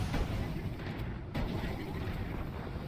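Missile guidance system firing in Destiny 2, a dense low rumbling roar of launches and blasts that fills the whole stretch, loud and continuous with a brief dip near the middle.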